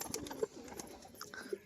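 A jhamar pigeon, kept as a fancy breed, coos in two short soft calls a second apart against faint outdoor background noise.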